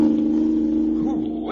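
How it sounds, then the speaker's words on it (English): A car engine in a radio drama hums in a loud, steady drone, rising slightly near the end, with a voice briefly heard over it. "This car's got an engine in it, all right."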